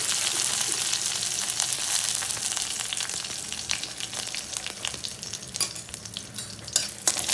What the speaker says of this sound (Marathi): कढीपत्ता छान परतून घ्यायचा.